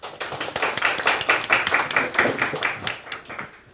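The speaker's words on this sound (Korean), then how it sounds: "큰 박수로 모시겠습니다" A small audience at a lecture on Chinese marketing claps together in a dense burst of applause that holds steady for a few seconds, then tapers off.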